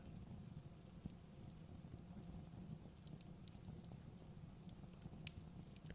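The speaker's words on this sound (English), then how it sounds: "the gentle crackle of fire, and the soft patter of the rain" Soft, steady rain patters evenly on a surface beside a gently crackling fire, with faint scattered pops over the hushed, continuous wash.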